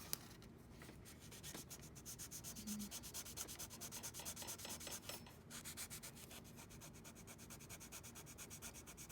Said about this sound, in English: Sand this down, and I'm just gonna go really light